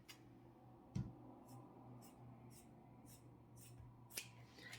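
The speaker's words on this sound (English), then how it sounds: "these scissors don't want to cut through" Faint, quiet snips of scissors cutting fabric repeat at a regular pace over a low steady hum, with one louder click near the start.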